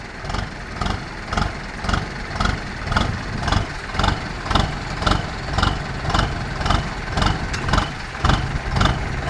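A car engine runs steadily after the driver shifts into first gear, with a rhythmic pulsing chug heard close by and no other sounds.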